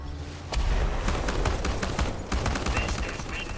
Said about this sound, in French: Je vais prendre le fusil de chasse.